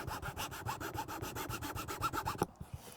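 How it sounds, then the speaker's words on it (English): A hand file rasps a small rebate into wood panelling in a narrowboat bathroom, giving steady rhythmic back-and-forth strokes close up, about a dozen even passes and then a few lighter scrapes. "filing a little rebate where those cables come out of the ceiling"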